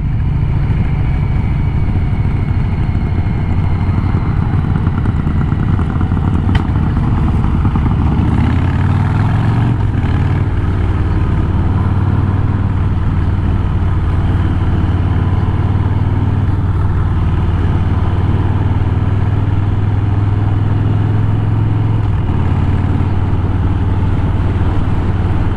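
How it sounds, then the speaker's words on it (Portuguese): A Harley-Davidson Fat Bob motorcycle engine on the move: a loud, steady low rumble held throughout, with the pitch shifting slightly midway, and no talking. "Eu tô aqui pilotando essa Fat Bob"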